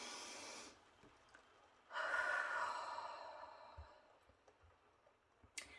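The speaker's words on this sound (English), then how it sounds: "So what we're going to do is just take a deep breath in." A slow, deep inhaled breath during a guided centering exercise in a tarot card reading, a soft airy rush that swells and then fades, close and quiet with no talking.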